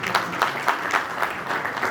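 Applause at a community gathering for Dharmeshbhai, a steady run of rhythmic clapping at moderate volume, with no voice over it.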